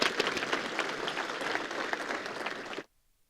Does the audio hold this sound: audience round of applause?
yes